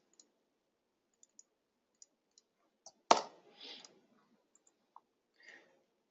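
Soft mouse clicks pick dates in a calendar picker, a scattered handful of faint, quick ticks in an otherwise quiet room, with one louder knock partway through.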